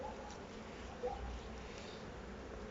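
Honeybees buzzing faintly and steadily around an open hive during an inspection after syrup feeding, a low continuous drone with no voices.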